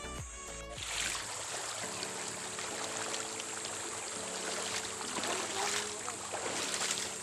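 Steady rushing of the Calawis river in Antipolo City, Philippines, fills the whole stretch, with a low humming drone underneath and occasional splashes.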